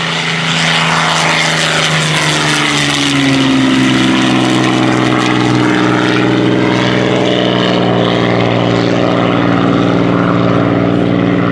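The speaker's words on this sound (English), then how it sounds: "Now on the takeoff roll, British Supermarine Spitfire." A British Supermarine Spitfire on its takeoff roll at a beach airshow, its propeller engine roaring loudly and steadily close by, with a deep droning tone that rises slightly in pitch as the aircraft gathers speed.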